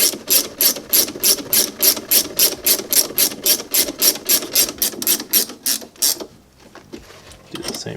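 A hand ratchet turns a 14mm bolt on a motorcycle's rear brake with a steady series of loud, rhythmic clicking strokes for about six seconds, then falls quiet apart from a few faint handling sounds.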